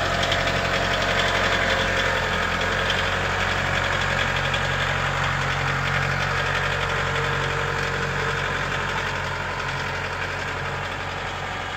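A small Case 40B tractor engine idles steadily and close, a continuous rumbling drone with a faint knocking rattle and no other sounds.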